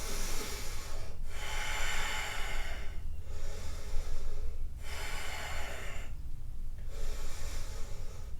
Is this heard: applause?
no